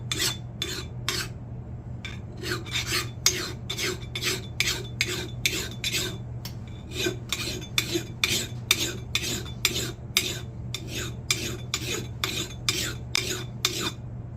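Rhythmic rasping strokes of a hand file sharpening a steel axe blade, about two dozen bright scraping passes in steady bursts with brief pauses, close and clear over a low steady hum.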